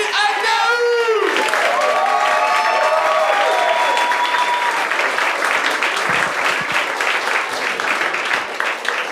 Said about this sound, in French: Gardez vos applaudissements le plus possible pour le premier qui vient casser la glace, Mehdi Agnaoui!